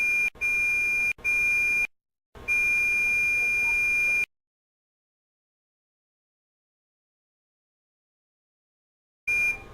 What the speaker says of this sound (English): The lamp will beep once when 3 minutes are remaining and again 3 times just before the session ends.